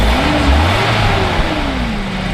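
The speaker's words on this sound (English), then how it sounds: "go ahead and rev it up one more time" A 1991 BMW 318is E30 coupe with the M42 four-cylinder engine revs once, the pitch climbing then easing back, loud and close against steady idle rumble.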